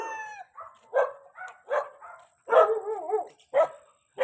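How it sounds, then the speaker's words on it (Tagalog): Chickens and dogs on a rural smallholding in Silang, Cavite, with several short bursts of barking or clucking calls spaced through the scene, fairly close and clear with no talking. "Ito naman yung mga manok. Ang dami ng manok ko."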